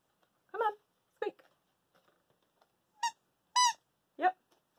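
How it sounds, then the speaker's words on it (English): Squeaky dog toy from a dollar store squeezed five times, short high squeaks spaced irregularly with silence between, close and clear. "I think it squeaks."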